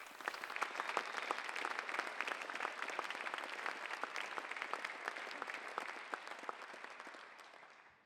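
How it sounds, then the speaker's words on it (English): Sustained applause from a banquet audience at the SIU Foundation 75th anniversary program for four award recipients, dense and even throughout before tapering off at the end. "Please join me in applauding all 4 of these recipients for the outstanding impact they have"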